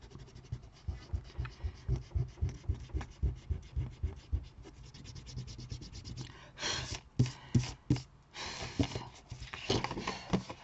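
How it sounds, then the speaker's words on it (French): An eraser rubs out pencil lines on paper in rapid, rhythmic back-and-forth scrubbing strokes, close up, turning into broader, rougher rubbing bursts toward the end. "vous effacez tous vos traits que vous avez pu faire au crayon à papier"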